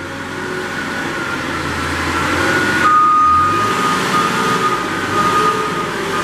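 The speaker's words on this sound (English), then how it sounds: "show you how nice the hydraulic motors and hydraulic pump works, and the steering" A 2015 Moffett M8 truck-mounted piggyback forklift drives with its hydraulic motors and pump running, giving a steady, fairly loud mechanical drone that swells slightly midway and holds for several seconds with no talking.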